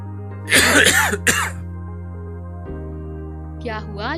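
A person gives a short burst of harsh coughs and throat-clearing up close over a steady electronic hum. After a pause comes a fainter throaty sound.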